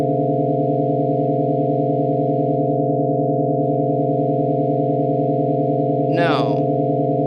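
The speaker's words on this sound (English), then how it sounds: "I think you're only hearing the tones, which I'm sure is pretty annoying" Steady electronic tones from a streamed lightwave and power circuit experiment, a loud droning hum with a warbling, pulsing layer, broken near the end by a brief downward-sweeping chirp.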